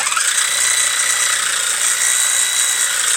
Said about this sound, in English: I'm going to be using a jigsaw to follow the profile out.